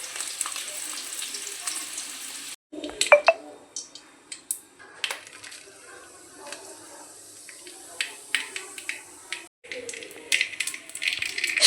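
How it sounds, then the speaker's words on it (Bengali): Eggs fry in mustard oil, giving a hissing sizzle dotted with sharp pops and spatters, quieter stretches between bursts of crackling and occasional utensil clicks. "ডিমগুলোকে একটু লাল করে ভেজে নেব।"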